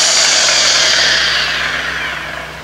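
A new buffing machine runs loudly at its high-speed setting 6, a steady close whining motor hum that holds for a couple of seconds and then begins to fade slightly.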